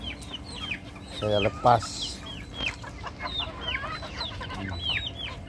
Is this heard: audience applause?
no